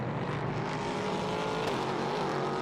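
A prototype race car crosses the line during Prototype Cup Germany qualifying at the Nürburgring in 2022; its engine drones faintly and steadily at a distance.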